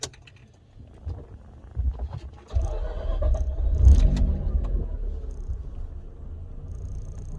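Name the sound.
Mazda RX-8 engine starting and idling after new tune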